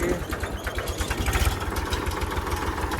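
A tractor engine runs steadily while the tractor is stuck in a farm field, a continuous low rumbling idle with a regular throbbing pulse, close and moderately loud throughout.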